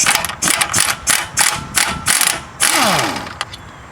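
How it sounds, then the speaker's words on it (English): An impact wrench removes a front lower control arm nut on a 2008-2013 Nissan Rogue, with an 18mm socket holding the bolt side. Close, loud rhythmic hammering bursts give way to a sustained whirring rattle with a falling whine. "I use an 18mm socket and ratchet on the bolt side to hold it in place, and my impact on the nut side"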